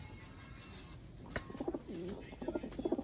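Soft, low pigeon coos repeat in short throaty bursts against quiet outdoor background noise.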